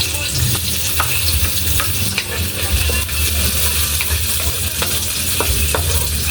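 Ginger sautés with onion in a pan for ginataang tulingan, a busy frying sizzle with sharp scraping clicks of stirring scattered throughout, loud and close, with no one speaking.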